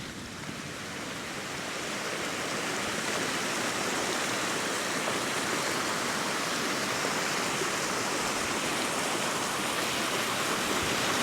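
A Scottish mountain river rushes in a constant loud broadband roar, building over the first few seconds and then holding steady, with no voices.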